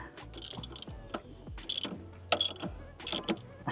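A 27 mm bolt is tightened on a supercharged car engine with a ratchet, giving bursts of clicking, clanking metal tool noise at close range, with no talk.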